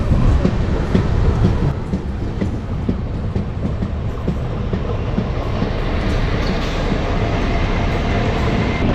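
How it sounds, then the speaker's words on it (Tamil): A passenger train on the Chennai Central to Calicut route in India rumbles steadily along the tracks nearby, a loud continuous roar with faint rhythmic clatter of wheels throughout. "அதோ இப்போ வண்டி ஓடுது பார்த்தீங்களா"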